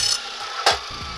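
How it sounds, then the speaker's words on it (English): A steel tool scrapes burrs from the freshly cut edge of an iron baluster, giving a brief rasping scratch near the start, then one louder close scrape followed by quieter scuffs. "I'm just scratching those burrs off."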